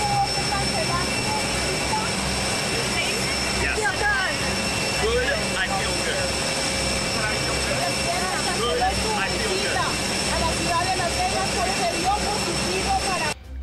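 Air Force One's jet engines roar steadily at Las Vegas airport, a loud, broad, continuous rumble with a high whine, while a voice speaks over it.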